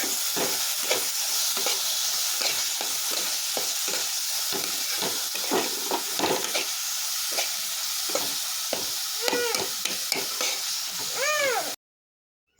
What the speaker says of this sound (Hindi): फिर हल्का-सा भून के फिर मैं उसमें टमाटर डाल दूँगी